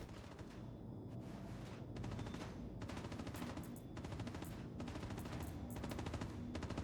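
Sustained bursts of automatic gunfire aimed at the player's ship in Star Citizen, rapid repeating shots in several volleys, loud and continuous over a dense mechanical background.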